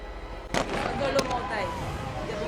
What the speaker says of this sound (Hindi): मुसलसल बाहर फायरिंग जारी है, इस कदर शदीद फायरिंग हो रही है